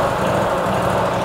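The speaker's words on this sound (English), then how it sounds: "To start the pump, turn the ignition on, pull the choke out for cold start, and press the start button." Small engine driving the fire pump on a custom-built Isuzu fire truck by Terber, running loud and steady at close range with a dense, buzzing drone and no speech.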